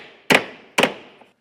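Two sharp hammer knocks on a wooden block drive a sauna cabin's base frame into place, about half a second apart, loud and close with brief ringing decay.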